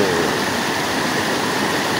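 Curug Tonjong waterfall on the Cibentar river in Kampung Kabelokan roars as a dense, unbroken wash of falling water, loud and close.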